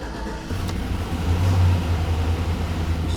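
A 2000-2006 Chevy Tahoe engine turns over and catches after an oil pan replacement, then settles into a steady, close, low running rumble.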